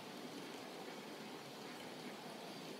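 A steady, continuous rumbling hiss of a model coal train running along a track, even and unbroken throughout, with no voices.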